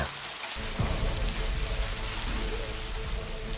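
Heavy rain pours down in a dense, continuous roar on a surface, with a low rumble underneath.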